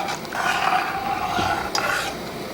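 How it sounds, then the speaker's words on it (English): A spoon stirs coconut milk into a pot of boiling vegetable soup, giving soft scraping and swishing strokes over a low bubbling simmer, close and fairly loud, with no talking. "I'm going to add about 1/4 of a cup of coconut milk and stir that"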